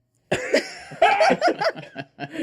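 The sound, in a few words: cough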